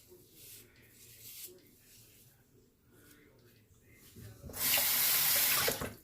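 A faucet runs water into a clogged sink. A loud, steady gush starts late, after quieter rustling and handling noise.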